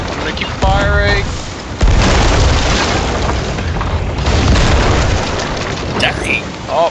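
Ship cannons fire in the pirate game Sea of Thieves, heavy booming blasts with rumbling tails rolling one after another through a loud naval battle, with brief voices in the mix.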